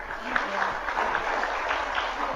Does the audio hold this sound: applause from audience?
yes